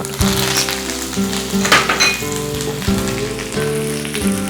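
Curry leaves, mustard seeds, urad dal, chana dal and green chillies frying in hot oil for a tempering, with a steady loud sizzle and crackle and occasional clinks of a utensil against the pan.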